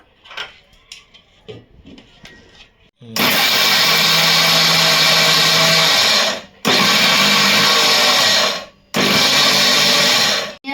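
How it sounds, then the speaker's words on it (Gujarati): A mixer grinder coarsely grinding peanuts for chutney roars loud and close in three bursts, each stopping abruptly before restarting, after a quieter stretch of kitchen clatter and handling. "હવે હું આ મિક્સરમાં પહેલાં થોડી દરદરી પીસી દઈશ"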